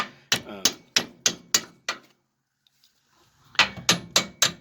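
A hammer beats parts out of a 1979 Jeep CJ-7 axle in two bursts of sharp, ringing metallic blows, about six quick strikes, a pause, then four more, close and loud.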